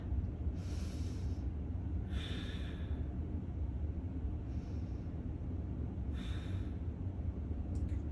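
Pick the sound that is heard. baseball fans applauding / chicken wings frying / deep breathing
deep breathing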